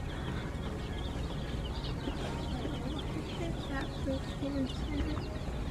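Golden Comet chicks in a farm store brooder give a steady chorus of high peeping and cheeping throughout, with background chatter and people talking nearby.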